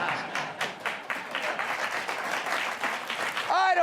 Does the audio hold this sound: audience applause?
yes